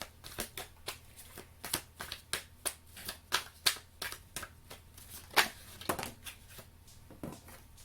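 Tarot cards shuffled and drawn by hand, a quick string of crisp riffling slaps and flicks repeating at an uneven rhythm, close and fairly quiet, with no talking.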